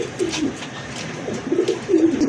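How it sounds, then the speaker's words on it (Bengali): Large, active racer pigeons cooing up close in a repeated low burbling rhythm, with several coos in quick succession and a few brief flutters and scuffs. "সবজি রেসার কবুতর, মাশাল্লাহ অনেক বড় সাইজের কবুতর"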